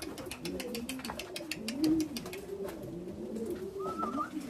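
A ringed pigeon coos in low, rolling repeated phrases, close and steady, with faint clicking or rustling in the background and no talking.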